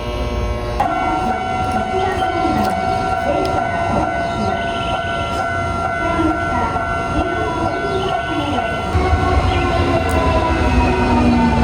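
A train at a railway station in Japan gives a loud, steady rumble with a droning mechanical hum for nearly twelve seconds. The sound is close and continuous, with faint high squeals over it and no talking.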